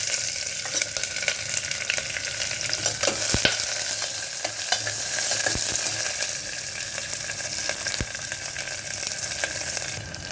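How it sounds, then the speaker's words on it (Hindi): Onions and curry leaves sizzle and fry steadily in hot oil with whole spices for a mutton curry, a dense close hiss with occasional stirring clinks and no talking. "अब इसमें डाल देंगे प्याज और कड़ी पत्ता।"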